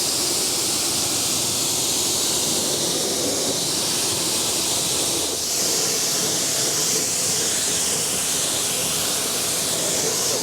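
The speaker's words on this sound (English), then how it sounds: "now it's time to rinse everything down" Water spray rinsing the wheels, tires and suspension of a Tesla Cybertruck during detailing, a continuous loud close hiss with slight shifts in intensity and no speech.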